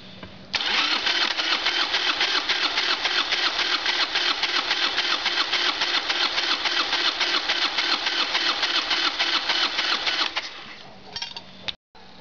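A Harley-Davidson Evolution Sportster engine cranks on the starter during a rear-cylinder compression test with choke out and throttle wide open, a loud rapid rhythmic chugging that runs steadily for about ten seconds, then cuts off with a few small clicks.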